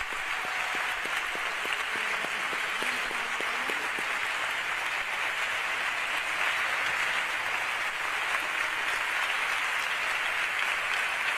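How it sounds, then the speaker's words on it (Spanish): A large audience at a charity pregón in Córdoba claps for Manuel and Marina, a loud, continuous wash of applause that holds evenly for over ten seconds. "un fuerte aplauso, Manuel, Marina."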